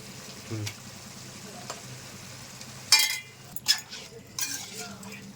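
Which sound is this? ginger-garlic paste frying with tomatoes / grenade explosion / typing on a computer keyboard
ginger-garlic paste frying with tomatoes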